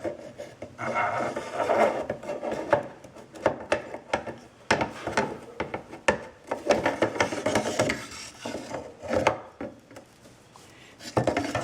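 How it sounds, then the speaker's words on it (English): A Daniel Defense Lite Rail being slid onto a rifle and its screws fitted, giving irregular close rubbing, scraping and rasping knocks of metal parts in uneven bursts, with no speech. "now I'm going to slide my rail on and start putting the screws back on"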